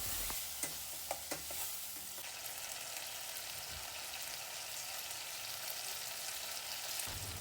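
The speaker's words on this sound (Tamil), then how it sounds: "வெங்காயத்தை தக்காளியும் நல்லா ஒரு 2 நிமிஷத்துக்கு வதக்கிக்கோங்க." Chopped onion and tomato sautéed in oil for restaurant-style tiffin sambar, a soft continuous sizzle with a few sharp spatula scrapes and stirs early on.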